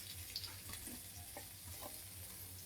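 Masala spices, including chilli powder, frying in a pan on a low flame, a faint, steady sizzle with a few soft stirring scrapes, continuous and quiet.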